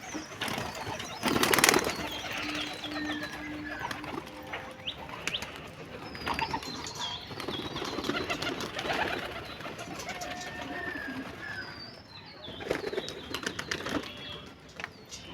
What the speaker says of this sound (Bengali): দেখো সব পায়রা ছেড়ে দিয়েছি